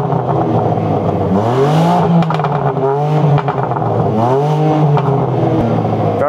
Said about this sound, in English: The M3 CS has a titanium back box for its exhaust for added fruitiness.